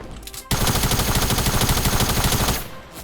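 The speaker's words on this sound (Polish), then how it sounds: "Ktoś z daleka strzela." Sustained burst of rapid automatic gunfire in a video game, dense and continuous for about two seconds, loud rather than distant, then cutting off.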